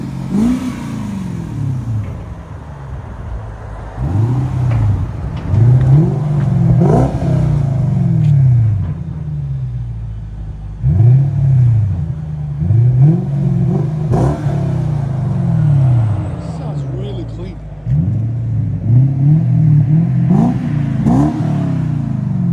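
A 2006 Lexus SC 430 hardtop convertible with a 4.3L V8 and muffler delete revs repeatedly, each loud throaty rise-and-fall of the exhaust close by with raspy clatter, in roughly four bursts.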